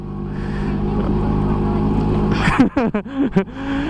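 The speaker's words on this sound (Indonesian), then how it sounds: "Ini mesinnya 2 tak ya, jadi ya suaranya kenceng." An old two-stroke Vespa scooter engine runs with a loud, steady buzzing idle, then breaks into several sharp revs and blips near the end.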